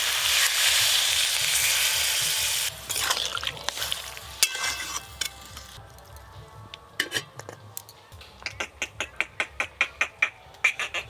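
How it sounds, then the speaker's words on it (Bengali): Bottle gourd greens cook in a pan with water as a strong sizzle gives way to a spoon scraping and clinking against the pan in quick, uneven strokes, with no talking. "এবার জল দিয়ে সব কিছু ভালো করে সেদ্ধ করে নেব"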